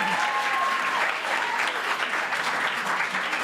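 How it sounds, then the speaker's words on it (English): A crowd at a musical variety event claps loudly and continuously, a thick bed of applause with a brief whistle-like tone near the start, sustained without letup and no speech on top. "give a big round of applause"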